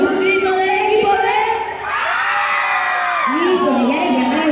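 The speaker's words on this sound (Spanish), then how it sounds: "Un grito del equipo B." A crowd of young people in a youth group team activity bellows a team cheer, loud overlapping whoops and yells that swell, dip briefly, then rise again in a second burst nearby.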